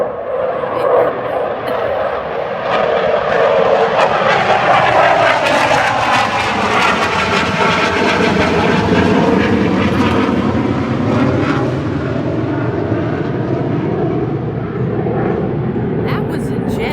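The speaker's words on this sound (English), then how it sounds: "That was a jet, a military jet." A military jet flies overhead as a loud, sustained roar that swells and slowly sweeps in pitch across the whole stretch, steady and unbroken, with no talk over it.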